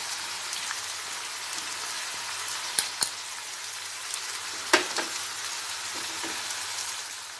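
Prawns sizzle in a hot pan for a Tamil-style prawn thokku with chili powder and turmeric: a steady, hissing fry with scattered sharp crackles and pops, fairly close.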